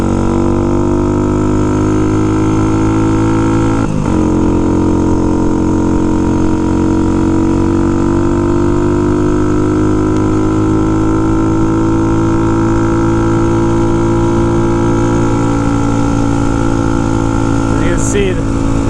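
A Mutt motorcycle with a worn clutch, heard while being ridden: a loud, steady engine drone with some wind, continuous throughout with small shifts in pitch and a couple of brief knocks.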